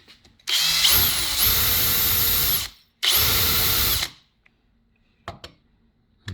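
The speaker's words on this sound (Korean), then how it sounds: "자, 그럼 이 드릴로 한번 뚫어볼게요. 꽉 잡고 한번 뚫어봅니다." Power drill boring into concrete, two loud sustained bursts of whining drilling, the first about two seconds and the second shorter, followed by a few faint knocks.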